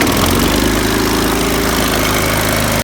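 A lawn mower engine with a newly replaced carburetor runs loud and steady at a constant idle-like drone, with no stutter and no voices.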